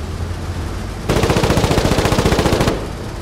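A vehicle-mounted gun in a video game fires a sustained automatic burst of about two seconds at an enemy, with rapid evenly spaced loud shots over a low engine rumble, starting and stopping abruptly.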